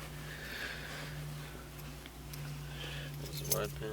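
Keys jangle briefly inside a Honda Civic during a B18C DOHC VTEC engine swap, a faint metallic clink near the end over steady low hum and soft background noise.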